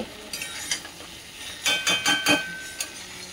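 Potatoes for dum aloo are sautéed in a pan, with a soft oil sizzle under a cluster of scraping, knocking strokes of a spatula or spoon against the pan.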